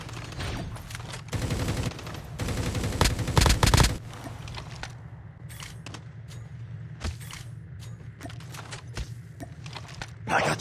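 Burst of rapid gunfire in COD Mobile, a dense fusillade peaking early, then sparse scattered shots and footsteps over a steady game background hum.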